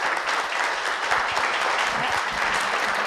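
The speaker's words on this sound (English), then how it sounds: "I'd like to give another round of applause for Dr. LaVelle Ridley." An audience at a panel talk applauds steadily, with dense, sustained clapping and a few faint voices mixed in.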